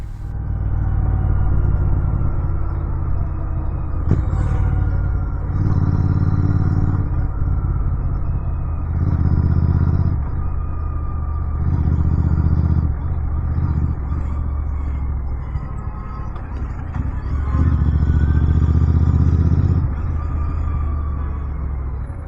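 A motorcycle cruises along a road at sunset on a ride from Tamil Nadu to Kochi. Its engine gives a steady low rumble that swells in regular surges over constant wind and road noise.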